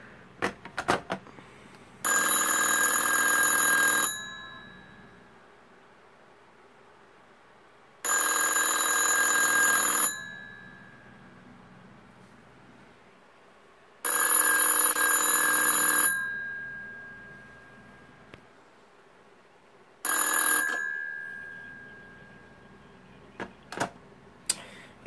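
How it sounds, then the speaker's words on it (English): An ATA 71 telephone rings alone in four long, loud bursts at regular spacing, each a sustained bright electronic trill followed by a few seconds of quiet. "then I'm going to hang up the phone and we'll ring back"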